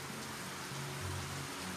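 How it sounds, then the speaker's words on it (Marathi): Rain falling at a hillside resort near Karjat, a steady dense hiss of drops on surfaces, even and continuous, with a faint low hum beneath and no voices. "पाऊस पडतोय मस्त"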